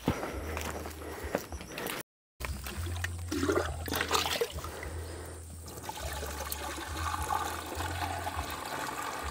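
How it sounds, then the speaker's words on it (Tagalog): Water drawn up from underground on a lakatan banana farm trickles and splashes steadily, with a low pump-like hum and a few footsteps, close and continuous after a brief gap. "Kuha tayong tubig."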